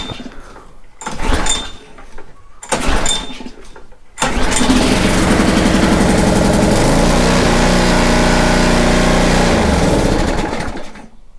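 Small gasoline engine on a used pressure washer: a few short cranking pulls that fail to catch, then it fires and settles into a steady, loud, close running drone that holds for several seconds before the revs drop slightly.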